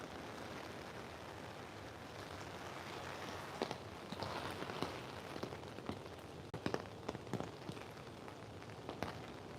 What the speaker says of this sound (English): Can you hear the rain on the umbrella?